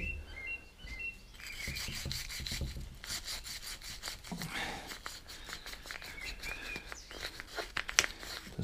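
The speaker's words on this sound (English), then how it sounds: "Might get my little wire brush in there in a minute, see how it comes up." A nylon brush scrubs grime from a lawnmower part in quick, rhythmic strokes, fairly quiet and close, with birds chirping faintly outdoors in the background.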